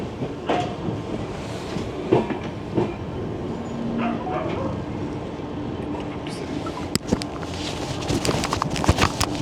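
Rajdhani Express pulling out of Dhanbad on a foggy morning, wheels clattering over rail joints in an uneven clickety-clack with metallic knocks and rumble, close and steady throughout.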